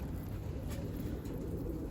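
A pigeon cooing near a coop, a soft low repeated coo over a steady outdoor background, faint and somewhat distant.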